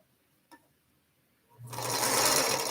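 A sewing machine starts up after a near-silent stretch and a single small click, then runs steadily and loudly, stitching quilt blocks late at night.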